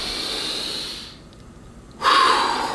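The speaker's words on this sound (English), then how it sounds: "In through the nose, out through the mouth" A deep breath drawn in through the nose, a short pause, then a strong breath pushed out through the mouth, close and alone during a bodyweight workout warm-up.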